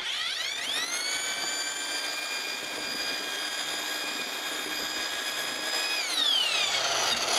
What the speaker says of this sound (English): the reason I'm using this power mixer is because I don't have the luxury of time